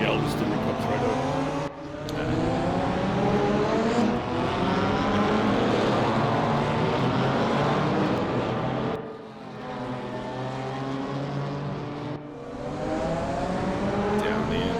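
GT race cars at the Norisring street circuit in a racing video game, loud close engine drones with rising and falling revs and brief dips between gear changes, a voice commentating over them.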